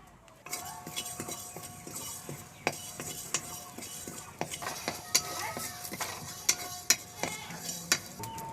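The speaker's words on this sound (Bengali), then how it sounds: "এবার আমি 5 ফোড়নটা হালকা রোস্ট করে নেব।" Panch phoron spices are dry roasted in a pan, heard as a close run of metallic clinks, scrapes and sharp taps from a spoon on the pan over a faint sizzle, with no talking.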